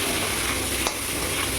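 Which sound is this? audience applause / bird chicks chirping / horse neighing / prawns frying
prawns frying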